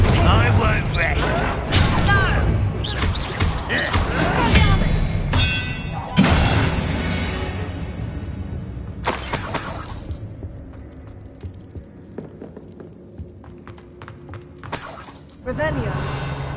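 Blasting spell impacts from Hogwarts Legacy: heavy explosive thuds with shattering, crashing debris, several bursts in close succession, loud and up close, with a voice speaking over the action.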